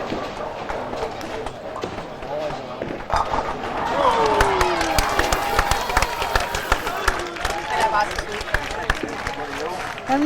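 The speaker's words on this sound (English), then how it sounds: "the crowd are going a little bit wild here" Spectators at a bowling championship cheer and roar in a dense, continuous wash of noise, with sharp bangs and claps scattered throughout, while a commentator talks over it.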